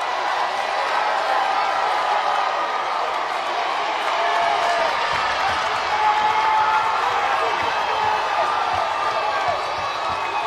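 Dense crowd roar fills a college basketball arena in the closing seconds of the Mid-Eastern Athletic Conference championship final between Norfolk State and North Carolina Central, a steady loud cheering wash under commentary, swelling slightly near the end.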